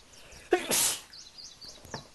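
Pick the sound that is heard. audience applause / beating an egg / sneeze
sneeze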